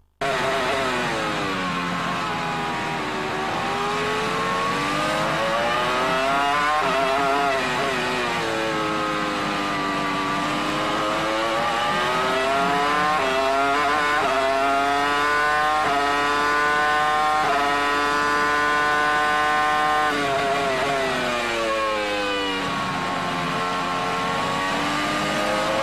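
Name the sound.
Formula One car engine, onboard camera at Hungary 2002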